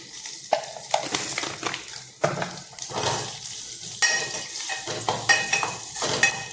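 Spices and turmeric sautéing in a pan for Maharashtrian buttermilk kadhi: a steady sizzle with repeated scraping and stirring strokes of a spoon against the pan, close and continuous.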